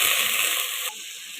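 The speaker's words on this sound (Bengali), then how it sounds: "আদা কাঁচা লঙ্কা বাটা, সামান্য একটু জল দিয়ে মশলাটাকে কষিয়ে নেব।" Ginger and green chili paste masala sizzling in a pan with a splash of water, a bright hissing fry that drops in intensity partway through, short and close.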